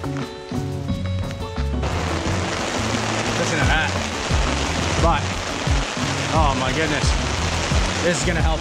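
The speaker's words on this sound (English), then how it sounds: "Look at the rain coming down." Steady rain pours onto a tent set up outdoors for building a duck coop, a dense continuous patter close by that fills the whole stretch, with a faint voice speaking beneath it.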